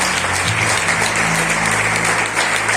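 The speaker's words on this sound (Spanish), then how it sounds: "Denos un aplauso a Jesús." A church congregation applauds in dense, sustained clapping that fills the room at an even level throughout.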